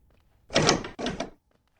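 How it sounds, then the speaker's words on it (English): Door being unlocked from the other side at night, two short close mechanical clacks in quick succession, then quiet. "The door unlocking. From the other side."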